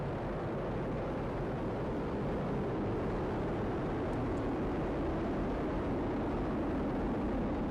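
SpaceX Falcon Heavy rocket with all 27 Merlin engines firing at launch, a loud, steady broadband roar that fills the whole clip without a break, sounding like a distant, sustained rumble.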